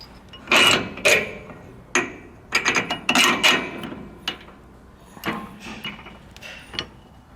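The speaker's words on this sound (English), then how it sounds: "I'm just going to go ahead and drop this bolt out, move that up a notch" Metallic clanks and ratcheting knocks come as a bolt is worked out of a Roadmaster rear anti-sway bar bracket on a 2018 Forest River trailer, in sharp, irregular bursts close by.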